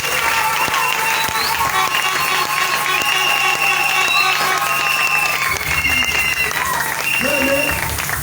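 Sustained applause from a church congregation fills the hall, dense clapping mixed with crowd murmur and a few raised voices, holding loud and steady throughout.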